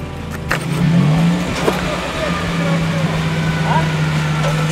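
A Suzuki Vitara engine turns over, catches and settles into a steady rumbling idle with slight revving, while people talk nearby at an off-road trophy competition.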